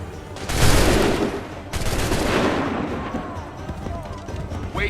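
A volley of musket gunfire in an Assassin's Creed 3 cutscene: two loud, sharp bursts of massed shots a second apart, each trailing into rumbling echo and crackle, with faint shouting underneath.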